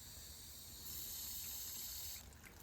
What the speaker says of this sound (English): Go ahead and just rinse this out nice and easy.